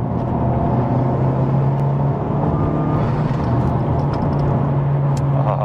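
Honda Civic Type R FK8 accelerating hard through second gear from 2500 RPM, a loud steady engine roar with rising whir and road rumble heard from inside the car, no talking.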